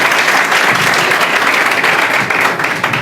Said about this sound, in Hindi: जोरदार ताली बजाएंगे सर के लिए।